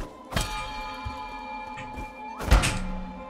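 A bell in the video game Nine Sols is struck twice, each hit a loud metallic clang with a long ringing tone lingering in between.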